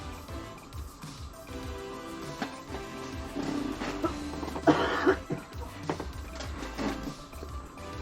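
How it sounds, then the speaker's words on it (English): A person coughs several times, in rough bursts that stand out over faint background rustling. "I apologize for the coughing."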